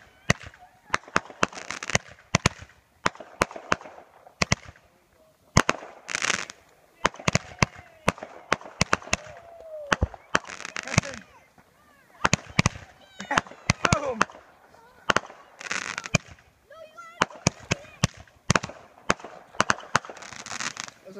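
A 50-shot fireworks cake fires at New Year, a rapid string of sharp cracking bursts spread over about twenty seconds with brief gaps, loud and close, while people talk and call out between the shots.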